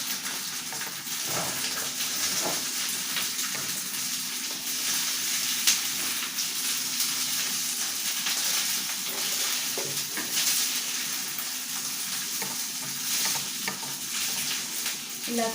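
Stirring and mixing a mixture in a hot pan, with a steady sizzle of frying throughout and occasional scrapes and knocks of the stirring utensil, close and moderately loud, with no talking.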